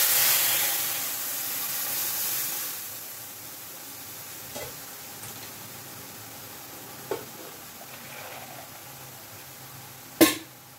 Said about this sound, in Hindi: ये बेसन वगैरह सब घोल के रखे हुए थे मट्ठे के अंदर, ये मैंने चढ़ा दिए।